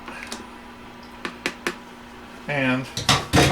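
Several clinks of a spoon stirring iced tea in a glass, short bright taps spaced apart, with a brief rattle of ice and liquid near the end.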